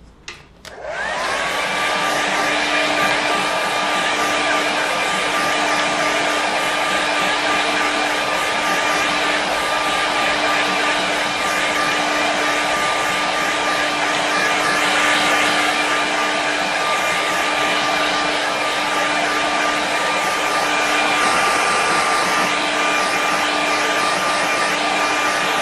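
A hair dryer blows over a watercolour painting, starting with a click and then holding a loud, steady whine and rushing airflow for the whole stretch.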